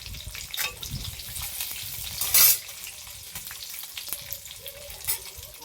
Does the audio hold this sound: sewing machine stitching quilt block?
no